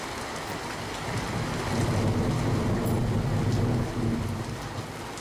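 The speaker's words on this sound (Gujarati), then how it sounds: "છેલ્લા ચાર કલાકમાં ચાર ઇંચ વરસાદ પડ્યો છે" Heavy rain in the Jamnagar area pours down in a thick, steady roar with a deep low rumble underneath, swelling slightly in the middle, close and unbroken.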